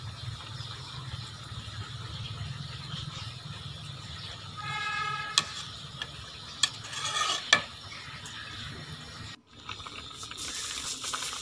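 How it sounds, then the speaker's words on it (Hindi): A spoon stirs carrot halwa in a cooking pot, making soft scraping and ticking sounds against the pot at close range. The sounds are quiet and irregular over a low background hum, with no talking. "थोड़ी देर के बाद आप इसमें चम्मच हिलाते रहें"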